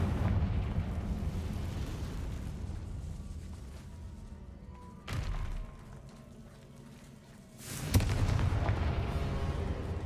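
Confringo fire-blast spell in the Hogwarts Legacy video game: a dense, rumbling explosive burst with a sharp crack at the start, another sharp blast near the end, and a continuous loud roar throughout.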